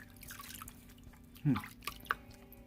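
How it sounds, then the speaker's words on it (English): A little water splashed onto the face during a shave, giving soft dripping and a brief splash with a couple of light drips afterwards against a quiet room hum. "A little bit of water on the face."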